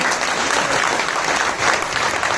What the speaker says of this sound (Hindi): दूसरी तालियां होनी चाहिए महाराष्ट्र के लिए।